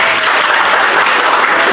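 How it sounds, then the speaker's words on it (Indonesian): An audience at a teacher coaching and academic supervision session claps steadily, a dense, loud wash of many hands that fills the whole moment without a break. "Mari kita tepuk tangan dulu."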